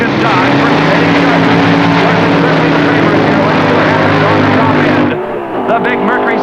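Funny cars, a Dodge against a Mercury Cyclone Comet, roar down a drag strip at the 1966 NHRA World Finals, a loud sustained engine howl that cuts off sharply near the end as an announcer talks over it.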